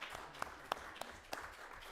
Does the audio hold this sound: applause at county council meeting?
yes